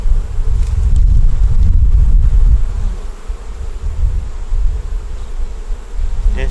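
Honeybees buzzing loudly and close around an open hive, a dense continuous drone that swells and eases, with some wind noise underneath.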